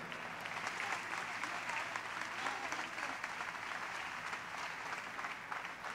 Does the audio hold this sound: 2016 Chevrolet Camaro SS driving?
no